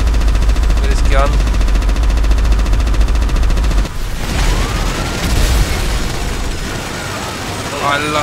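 Gunfire and explosive bursts in GTA 5, loud and close, with heavy booming thuds over a constant rumbling game backdrop.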